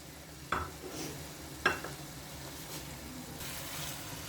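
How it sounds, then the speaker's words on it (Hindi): Mutton keema with green peas frying in separated oil makes a faint, steady sizzle. Two soft spoon scrapes stand out early in the stir, and no one speaks. "मटर डालकर मैंने इतनी देर भूनना है कि मटर गल जाए"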